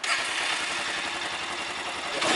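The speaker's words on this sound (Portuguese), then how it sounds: "Vou sair louco porque eu quero dar um rolê de moto" Pink Honda Falcon motorcycle engine running, a steady mid-pitched rumble heard close, rising slightly in the last moments.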